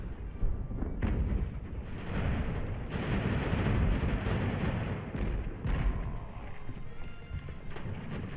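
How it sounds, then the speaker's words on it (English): Cannon fire in the Ultimate Admiral: Age of Sail naval battle game booms repeatedly at moderate loudness over a constant rumbling battle din, with several sharp bursts spaced a second or two apart. "Taking some cannon fire, that's not good."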